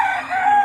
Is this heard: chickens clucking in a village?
yes